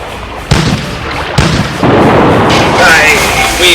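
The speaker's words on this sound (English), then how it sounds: "Ready the cannons." Pirate ship cannons fire in a booming volley: two sharp blasts, then a heavier rumbling barrage and lingering explosion roar, loud and close.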